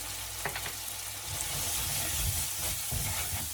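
Chili powder sizzles in hot oil for a village-style mud crab curry. The frying hiss is steady and close, with a few stirring scrapes and no talk.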